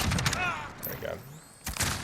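Tap-fired HK433 battle rifle converted to 7.62 in Call of Duty Modern Warfare, a few quick bursts of shots with mechanical clatter, sitting within a busy game mix.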